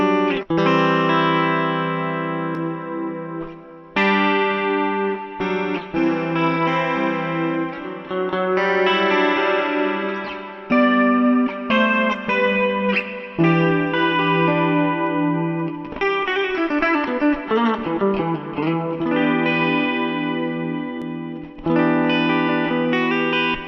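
An electric guitar plays through a modeled amp tone meant to match a live Austin, Texas sound: fast, singing distorted lead lines with chorus and reverb, loud and continuous with brief gaps between phrases.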